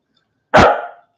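A single loud, close dog bark, one sharp burst that fades over about half a second, heard outdoors during a landscaping livestream.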